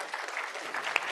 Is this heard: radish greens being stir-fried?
no